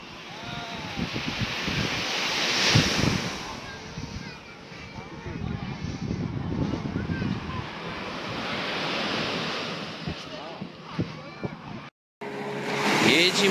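Surf rolls in continuously at Batu Ferringhi beach in Malaysia, steady crashing waves with gusts of wind noise on the microphone, and people talking nearby over the water.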